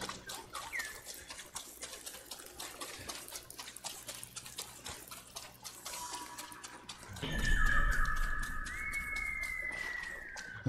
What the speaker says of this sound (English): This bird is taking me somewhere.